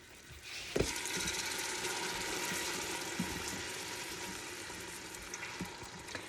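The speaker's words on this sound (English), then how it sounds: "I don't know if you can hear it, but it is already starting to bubble in there." Cubed chicken sautéing and starting to bubble in an Instant Pot, a quiet steady sizzle with faint popping and a couple of soft knocks, no voices.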